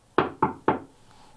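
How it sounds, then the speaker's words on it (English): Three sharp knocks on a hard surface, evenly spaced and close, ring in an old house during a ghost hunt, followed by quiet. "Can you show us that you're here by knocking like this?"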